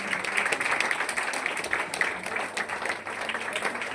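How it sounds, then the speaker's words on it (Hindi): Audience applause at a coaching institute's results celebration for JEE Main 2026 in Guwahati, Assam; continuous, fairly quiet clapping from a crowd running evenly throughout, somewhat distant and without any talking over it. "जोरदार तालियां एक बार।"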